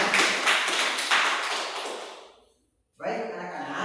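Hands clap in a classroom in a quick run of loud, rhythmic bursts that fade, then a brief pause before a voice begins.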